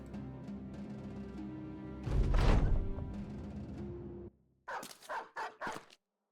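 Dog barks in the Battle Brothers video game, a loud burst midway over steady game ambience, followed by a few short yips and whimpers near the end.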